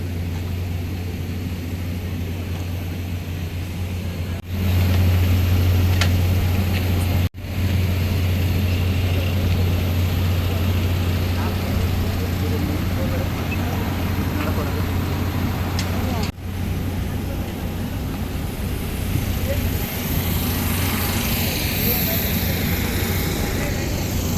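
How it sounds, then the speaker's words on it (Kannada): On the apron at Mangalore Bajpe airport, passengers walk in line beside a plane after a bus drops them off. A steady, loud low engine drone fills the air throughout while people talk nearby. "ಫ್ಲೈಟಿಗೆ ಹೋಗ್ತಾ ಇದ್ದೇವೆ. ಬಸ್ಸಲ್ಲಿ ತಂದು ನಮಗೆ ಫ್ಲೈಟ್ ಹತ್ರ ಬಿಟ್ಟಿದ್ದಾರೆ."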